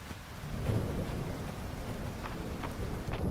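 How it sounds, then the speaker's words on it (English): Steady heavy rain with a low rumbling thunder swell in the video game Fields of Mistria, a continuous dense wash with faint patters on top, with no voices. "I don't know if it's the rain that's making me sleepy"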